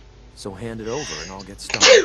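A character in the video game Fallout 4 sneezes once, sharp and close, right after a man's spoken line in a quiet interior.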